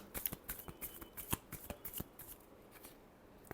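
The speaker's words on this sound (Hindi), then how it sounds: "Last shuffle." Tarot cards shuffled in a quick run of crisp, riffling snaps and flutters, loud and close, easing off toward the end with no talk.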